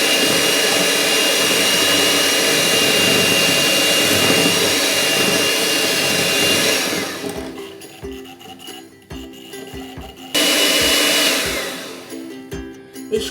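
Electric hand beater whirring loudly through blueberry pound cake batter, a continuous high-pitched motor roar that cuts off partway, leaves soft clatter, then starts again briefly before stopping.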